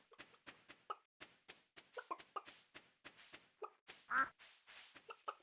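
Chickens cluck in a farming video game, with a steady run of short, soft clucks and one louder squawk near the end. No one speaks.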